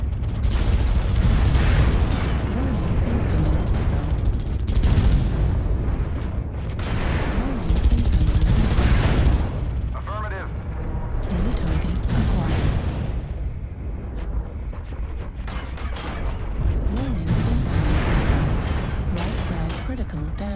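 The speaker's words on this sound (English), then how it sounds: "Artillery strike online. Artillery strike activated." An artillery strike in a video game brings a dense, continuous barrage of heavy booms and rumbling blasts, loud and overlapping throughout with no clear gaps.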